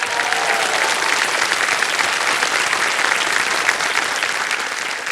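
Dense, steady applause from a studio audience on a televised quiz show, a continuous loud wash of many hands clapping throughout, with no voices on top.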